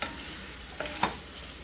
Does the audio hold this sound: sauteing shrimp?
yes